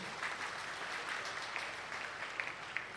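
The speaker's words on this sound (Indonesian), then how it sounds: "Tepuk tangan buat kita semua." Audience applause at a university graduation ceremony, a steady, even wash of clapping from a large crowd that holds constant for about three seconds, with a few sharper claps standing out near the end.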